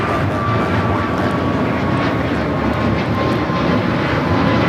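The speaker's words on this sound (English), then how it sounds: "This is American Airlines Flight 59 taking off to Kailua, Kona on the A321neo." Steady, loud jet roar as an American Airlines Airbus A321neo takes off at Los Angeles airport, with a thin whine riding over the broad engine noise and no voices.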